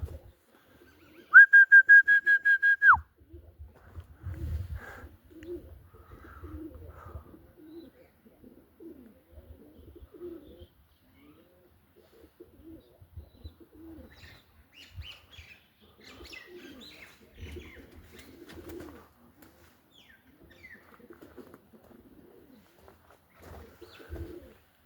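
Pigeons coo softly and intermittently, faint low murmurs scattered across a quiet stretch, with a sharp whistle-like tone near the start and occasional light rustles.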